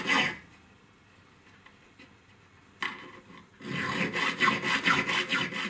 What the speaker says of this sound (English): I'll go over that cut with a 3-square needle file